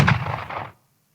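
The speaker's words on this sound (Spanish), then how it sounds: "un sonido que ya es bastante común en nuestro Chile hoy por hoy, que es de un lanza lacrimógena" A single sharp, muffled tear gas launcher shot with a thudding low body, fading quickly within under a second, followed by near silence.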